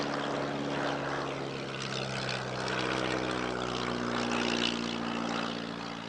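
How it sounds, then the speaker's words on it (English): A vintage De Soto propeller aircraft, a British licence-built version of the Koolhoven FK-41, flies at the Shuttleworth airshow with a steady, moderately distant engine drone and a droning propeller hum that stays fairly even throughout. "The De Soto was a British licence-built, improved version of a Dutch aircraft called the Koolhoven FK-41"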